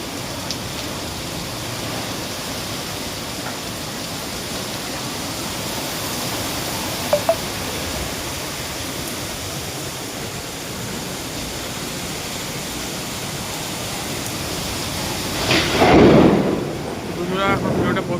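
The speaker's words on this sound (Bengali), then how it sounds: "বুঝছো কি লেভেলে বৃষ্টি হচ্ছে" Heavy rain during a thunderstorm pours as a constant dense hiss for a long stretch, with two sharp taps midway and a louder rough swell near the end.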